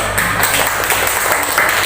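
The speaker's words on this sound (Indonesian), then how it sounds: "tepuk tangan buat kelompok 1" A classroom full of people claps for a student group, a brief, dense patter of steady applause with no speech over it.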